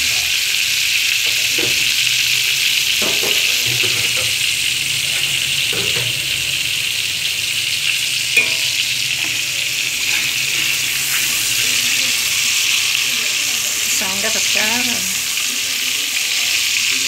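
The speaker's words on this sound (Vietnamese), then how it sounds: "Cái này mình chiên sơ thôi cho nó săn cái cá lên đó các bạn, chứ không phải là chiên vàng cái cá chi các bạn ơi." Sea bass seasoned with salt and pepper sizzles steadily in hot oil with garlic, a loud continuous frying hiss with occasional clinks and stirring, and a voice talks faintly now and then.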